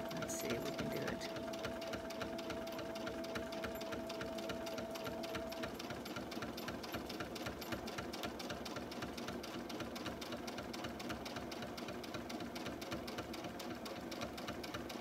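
A sewing machine stitches a hassock cover in a rapid, steady run of needle strokes that carries on close and evenly for the whole stretch, with no talk.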